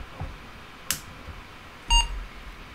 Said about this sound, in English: We have a beep. That's good.